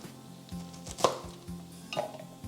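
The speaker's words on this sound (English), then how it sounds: "we're going to chop that down too, just a little bit before adding it to the jar" Garlic and a piece of ginger chopped by knife on a board, a few distinct knocks about half a second apart, close and fairly quiet with no voices.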